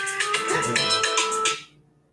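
An electronic phone ringtone plays a quick, repeating melody of bright beeping notes, loud and close, then cuts off abruptly near the end.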